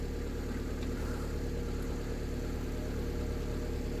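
A 2-ton electric scissor jack's motor runs steadily as it winds down, a continuous low mechanical hum with a faint whine, unbroken for the whole stretch with no talking.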